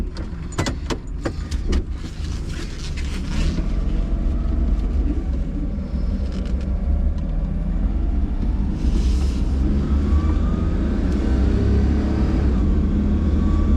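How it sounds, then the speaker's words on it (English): 1997 Daihatsu Midget II right-hand-drive microcar cargo truck driving, with a continuous loud engine drone and road rumble from inside the cab, a few rattling clicks at the start and gentle rising revs. "Let's take this out for a drive."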